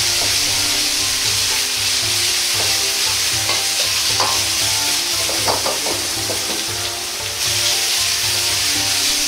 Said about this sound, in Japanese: タケノコとピーマンをじっくりと1分くらいかけて炒めます。